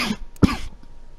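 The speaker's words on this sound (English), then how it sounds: "excuse me again for coughing" A single harsh cough comes from a man who is feeling unwell, close to the microphone, preceded by a brief throat sound and followed by quiet.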